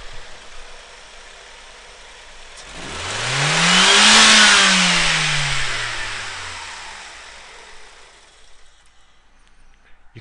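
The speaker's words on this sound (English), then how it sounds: "we're going to go wide open throttle, and this should tell us the maximum pressure that this cylinder is able to produce" A car engine rises from a quiet idle to wide-open throttle and falls back during a running compression test, one smooth, loud rev swelling and ebbing over about six seconds, with no talk.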